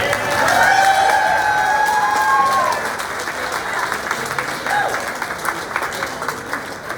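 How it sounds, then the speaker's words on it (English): A crowd at a recovery walk event applauds staff members, steady close clapping that stays loud, then eases slightly, with some cheering and voices mixed in. "Please give them a round of applause."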